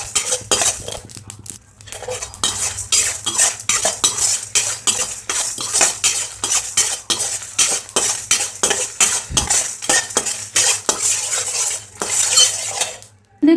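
A metal spoon scrapes and taps rhythmically against a pan while mustard seeds, fenugreek and dried red chillies dry roast without oil, giving steady close stirring clinks throughout with no talking.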